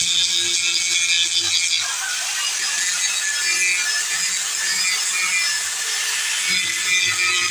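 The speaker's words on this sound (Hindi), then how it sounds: "मेरे पास ग्राइंडर है, तो मैं ग्राइंडर से इसको साफ़ करता हूँ।" A handheld grinder runs steadily against the surface of a broken solar panel, a continuous high whining, scraping drone that stays loud and close with only slight changes in pitch and no speech.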